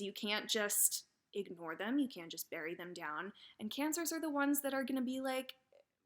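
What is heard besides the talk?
No everyday noise stands out behind the speech.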